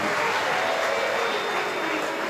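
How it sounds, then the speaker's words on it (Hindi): An audience at a Hindu religious discourse claps loudly and steadily in unison, a sustained wash of applause lasting a couple of seconds. "एक बार सभी के लिए जोरदार ताली बजाकर साधुवाद"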